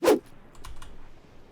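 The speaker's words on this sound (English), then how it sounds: "keystrokes on a keyboard." A single sharp keystroke on a computer keyboard, picked up close by a streaming microphone, followed by a couple of faint softer taps and light background hiss.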